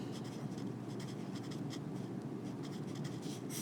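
Pen or marker writing on a surface during a biology lecture makes a steady, close scratching texture with faint squeaky strokes, continuous for a few seconds with no talk over it.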